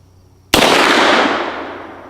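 A single sharp gunshot from a real Mauser C96 pistol fired outdoors, a sudden loud crack followed by a long fading echo.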